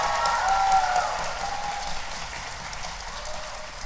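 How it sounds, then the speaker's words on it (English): Audience applause at a ConnectiCon 2016 convention panel, a dense wash of many hands clapping that starts strong, then settles into a steady, slightly softer roar for about four seconds. "You can applaud."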